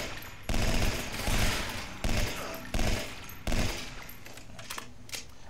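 Bursts of automatic gunfire from a gun fired from the hip in a video game, five loud clusters of rapid shots in quick succession, with a faint voice briefly under them.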